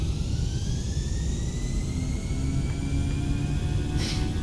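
Jet engines on an Airbus A319 spool up to takeoff thrust on the runway in MSFS2020. A steady, loud roar carries rising turbine whines that climb slowly, with no voices over it.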